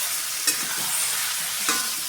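Chicken pieces fry in hot oil in a pan for a Bengali chicken and potato curry, hissing steadily while a utensil scrapes through them twice.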